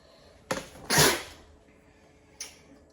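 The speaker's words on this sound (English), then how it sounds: "I'm about to sneeze." A single sharp sneeze from a person at work on a painting, preceded by a brief intake sound and followed by a small faint noise, heard close with no talking.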